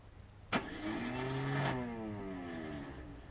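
A Mazda 626 Coupe engine cranks and catches with a sudden sharp burst, then revs up in a rising, rough mid-pitched roar that holds for a couple of seconds before easing slightly into a steady idle, close by with no voices.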